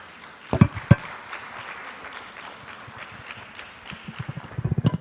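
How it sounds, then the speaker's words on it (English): Conference attendees at a women's conference in Lusaka, Zambia give light, scattered applause, a soft and somewhat distant patter of clapping with a couple of louder nearby knocks and thumps. "That applause doesn't sound as if you're expectant."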